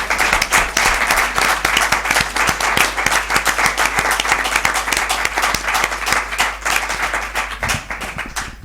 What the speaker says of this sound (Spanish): pues nada, un aplauso.